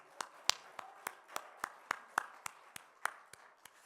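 Slow, evenly spaced hand claps ring out one at a time during a church service, about a dozen sharp, faint claps with no talking over them.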